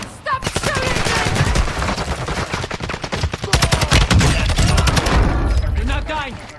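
Continuous automatic gunfire from Call of Duty Warzone on Ashika Island, loud rapid bursts and overlapping shots with booms, with voices in the mix.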